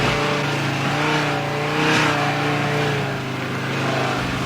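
Original Mercedes G-Wagon off-road vehicle driving, a loud, steady engine drone with gently wavering revs and a brief swell midway, heard close without talk.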